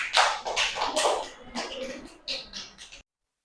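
Classroom students clapping for group 2 after their presentation, a short burst of scattered handclaps that fades within three seconds, with some voices mixed in.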